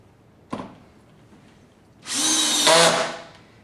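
A power drill drives screws while a door lock is installed: one short, sharp burst, a pause, then a longer high whir that rises slightly before it winds down.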